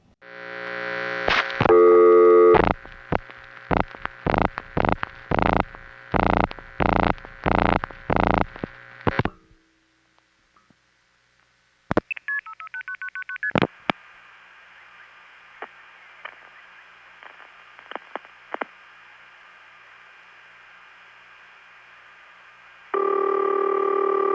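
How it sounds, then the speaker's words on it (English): A 1976 long-distance telephone call routed through an NX1 exchange: rapid bursts of signalling tones and clicks, a short pause, relay clicks, then a faint steady line hum broken by clicks before a distinctive ring tone starts at the end. "Now I think this ring type was only found on NX1's."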